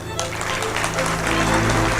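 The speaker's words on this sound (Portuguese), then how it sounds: "Uma salva de palmas para o nosso querido amigo deputado Aldo Rebelo." An audience at a national labor confederation meeting gives a round of applause for a deputy: a thick, continuous patter of clapping over a low electrical hum, with voices blended in underneath.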